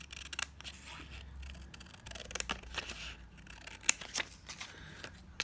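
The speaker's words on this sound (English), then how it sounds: "I'm going to trim off that cream border." Scissors trim a cream border off a printed picture for a tag pocket, giving quiet, irregular snips and paper rustles at close range with no talking.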